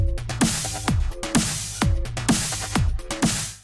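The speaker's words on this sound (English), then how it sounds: "I really like the fizz it's putting on that snare." A punchy drum beat processed by the United Plugins FireCharger plugin, snare hits carrying a buzzy, crackling distortion, a bright electric fizz smeared over each backbeat, with no voices.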